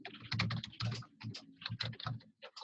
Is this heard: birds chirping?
no